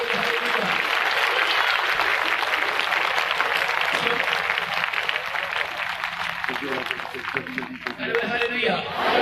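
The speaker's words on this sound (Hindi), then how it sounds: "ताली बजाएंगे जोर से यीशु मसीह को।" Congregation at a Christian prayer and healing meeting applauding loudly, a dense sustained roar of many hands clapping that fills the whole stretch, with shouting voices rising within it toward the end.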